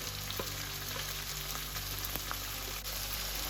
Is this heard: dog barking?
no